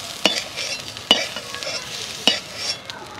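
Fried cauliflower florets lifted out of a hot oil pan, with three sharp utensil clinks against the pan over a steady close sizzle.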